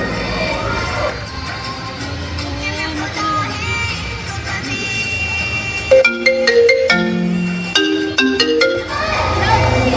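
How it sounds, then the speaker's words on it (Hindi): A telephone ringtone plays in bright repeating electronic tones over the noise of a school annual function crowd, with children shouting and cheering throughout. "प्रदीप के पापा को फोन लगाया जाए"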